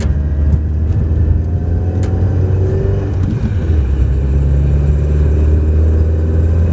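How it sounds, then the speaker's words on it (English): Alpine sports car engine revving close up, a steady low rumble with a brief rise in revs partway through, loud and alone with no talk. "it's just a fantastic sounding car"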